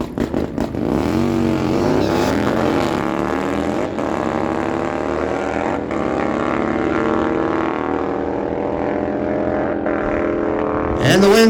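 Two Harley-Davidson Softails, a 2009 121 cubic inch and a 117 cubic inch, roar down a dragstrip in a street-class final, engines loud and rising steadily in pitch through the gears for about ten seconds before a sharp rev at the end.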